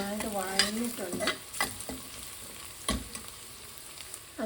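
Sliced onions sauté in hot oil in a pan for a clam fry, a steady soft sizzle broken by occasional scraping stirs of a spatula, close and alone without voices.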